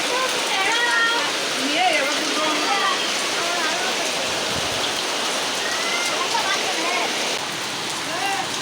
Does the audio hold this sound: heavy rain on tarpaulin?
yes